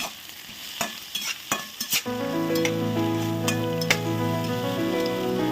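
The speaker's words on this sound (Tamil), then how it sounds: "வெங்காயத்தை போட்டுக்கலாம். வதக்கலாம்." Onions sautéing in a pan for a simple home-style brinjal gravy: a few clanking stirs and taps, then a steady sizzle that swells and holds, close and fairly loud, with occasional utensil clinks and no talking.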